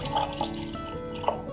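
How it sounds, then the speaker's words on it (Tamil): Cooled cow's milk and water trickle and drip into a vessel while a herbal Orithazh thamarai remedy is prepared, with soft liquid splashes and a few brief drips close by and no talk. "கொஞ்சம் பால், கொஞ்சம் தண்ணி சேர்த்துக்கலாம்."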